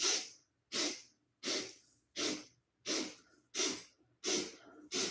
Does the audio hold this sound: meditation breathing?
yes